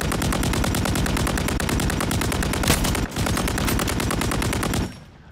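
Loud, continuous automatic gunfire from the video game Call of Duty rattles in rapid bursts, with a brief pause and a heavier blast before the shooting resumes and then cuts off.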